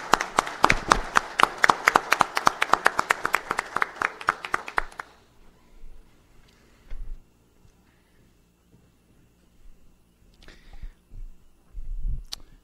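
Hands clapping in a municipal council chamber for a councillor, a dense round of applause from a small group for about five seconds that stops abruptly, followed by quiet room noise and a few faint knocks and shuffles.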